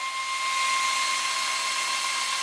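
A lathe takes a steady finish pass along a turned diameter, a continuous high-pitched machining whine holding even and loud for the whole stretch with no talk over it.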